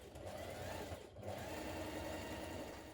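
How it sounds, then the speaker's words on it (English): Close and fairly quiet, a sewing machine runs steadily as hood sections of a jacket are stitched together around a curve, its continuous whirring hum dipping briefly partway through. "you're going to stitch your hood sections together all the way around this curve"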